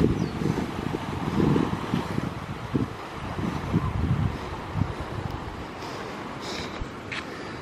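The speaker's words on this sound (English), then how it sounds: "This is where we have these waves crashing onto these rocks." Rough, churning surf and wind noise with bursts of splashing water as waves crash onto rocks at a beach in Waikoloa Village, Hawaii, loud and close, with no voices.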